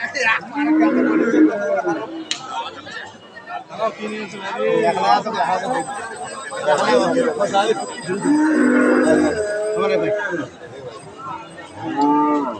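Jersey and Friesian dairy cows at a busy cattle market give loud, drawn-out moos, with people talking and haggling throughout.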